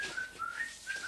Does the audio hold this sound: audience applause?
no